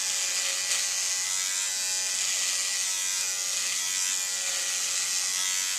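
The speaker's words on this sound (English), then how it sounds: "the pivoting head on this Conair shaver is just awesome for how I need to shave." A Conair electric shaver with a pivoting head and its guard removed runs against the skin with a steady, close, high-pitched buzz that barely varies throughout, no talking.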